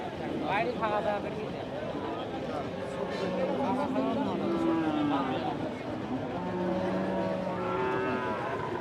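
Bull calves at a busy cattle market give repeated drawn-out moos, some near and some farther off, over constant crowd chatter and voices nearby.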